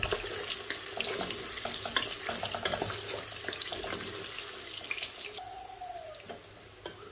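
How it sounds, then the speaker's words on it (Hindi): Soya chunks frying in a pan give a continuous hissing sizzle with scattered crackles and pops, easing off near the end as a brief tonal squeak sounds; no one speaks. "ये डाल दूंगी। इनको अच्छे से इसमें जो फ्राई करेंगे तकरीबन 3 से 4 मिनट।"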